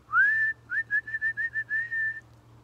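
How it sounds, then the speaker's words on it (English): A clear whistle starts with a rising swoop, then breaks into a quick series of short, even toots at the same steady pitch. "Suddenly, out came a real whistle."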